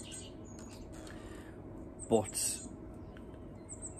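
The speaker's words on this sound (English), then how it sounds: "Do apologise for the birds, they're driving me insane." Outdoor birds call during a metal detecting dig, with a sharp crow-like caw standing out over faint chirps, a voice speaking briefly as well.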